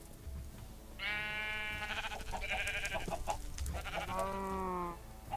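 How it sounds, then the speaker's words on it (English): Sheep bleating in a survival-crafting video game world, two long wavering bleats with a shorter call between them, fairly close and clear with no talk over them. "The sheep are back in the world"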